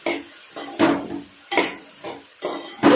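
A spoon scraping and clinking around a metal cooking pot while a coconut dish is stirred, in repeated strokes roughly every half second, close and fairly loud with no talking.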